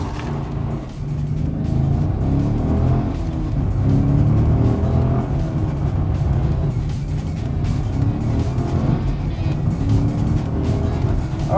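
A Commodore ute's engine pulls hard under acceleration, a loud, sustained, gritty drone with slight surges and no break, heard up close with road noise mixed in.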